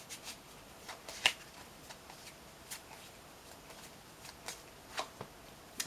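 Tarot cards shuffled and drawn by hand, a soft papery riffle with scattered crisp flicks and taps, quiet and close with no voices.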